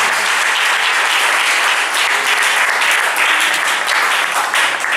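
A church congregation applauding in praise of the Lord, loud sustained clapping from many hands filling the whole stretch, close and dense without letup.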